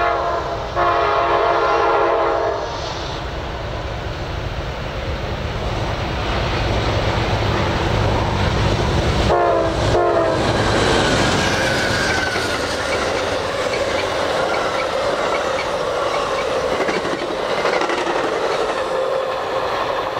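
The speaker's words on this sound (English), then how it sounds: "let's take a look here at Amtrak 19" Amtrak 19 passenger train passing at night, loud throughout with rhythmic wheel clatter, a horn blast near the start and squealing wheels midway.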